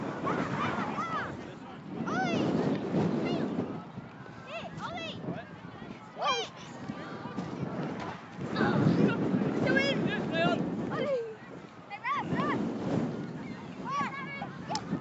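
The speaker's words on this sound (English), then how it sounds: "Oh, this wind's killing me." Wind gusts across an outdoor football pitch, buffeting the microphone in rough, swelling waves, with coaching voices and shouts over it throughout.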